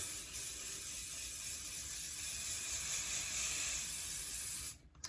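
Hairspray hisses onto a teased wig in one long, steady, close-up spray lasting nearly five seconds, then cuts off abruptly.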